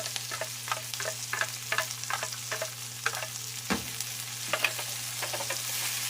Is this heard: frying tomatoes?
yes